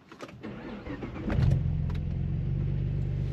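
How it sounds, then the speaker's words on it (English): A Saab 9-3 2.8T V6 cranks briefly and catches, settling into a steady, loud idle heard from inside the cabin with no talking. "Ignition into the center console and start."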